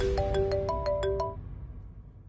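A phone ringtone chirps in a quick melodic pattern of about seven bright beeps, then stops and leaves a faint tail as a call is placed in a shop, with no voices.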